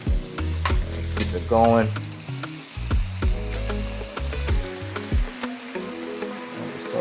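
Rice stir-frying in a wok over the highest heat, with a steady close sizzle and repeated scraping, clattering stirs throughout, and a voice speaking briefly.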